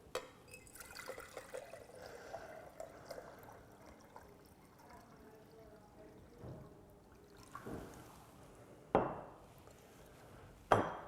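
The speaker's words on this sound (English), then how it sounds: "We now add that to a beaker. And we add 800 cubic centimetres of water, approximately." Water pouring and trickling into a laboratory beaker, a gurgling stream that rises in pitch as it fills, followed by a couple of sharp glassy knocks.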